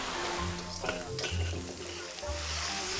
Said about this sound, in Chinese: 热锅下油，先下配料，再翻炒海鲜